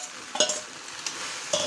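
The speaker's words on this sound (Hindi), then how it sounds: "अब आपको इसे इस तरह से चलाते रहना है धीरे धीरे" A spoon stirs sabudana khichdi in a pan over a medium flame, with a few soft scrapes and clinks spaced apart over a low sizzle.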